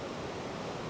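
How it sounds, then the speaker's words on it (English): Forest waterfall pouring in a steady, dense rush of broadband water noise, continuous and even, with no voices. "We came upon this wonderful waterfall that went back into the forest"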